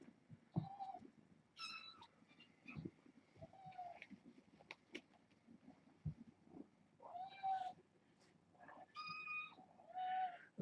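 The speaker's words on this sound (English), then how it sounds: "on the other side of the door meowing at them or chirping" A cat meows and gives short chirping calls from behind a closed door, several separate calls scattered across the stretch, fairly faint with quiet room noise between them.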